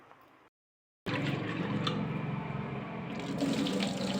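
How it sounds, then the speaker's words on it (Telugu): Running tap water pours steadily into a vessel while toor dal is washed for sambar, a dense splashing gush that starts abruptly after a brief silence and continues alone. "ఒక 2 సార్లు కడిగేసి మంచినీళ్ళు పోయాలండి."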